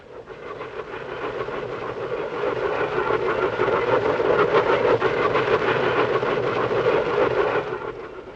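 A train running on rails, a steady rumbling roll with rapid rhythmic clickety-clack of the wheels, swelling louder through the middle and easing slightly at the end, with no voices.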